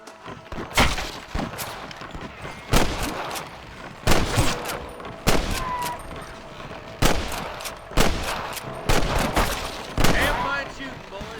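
Gunfire rings out in the video game Red Dead Redemption as repeated loud shots and volleys crack at irregular intervals, mixed with game voices and background noise.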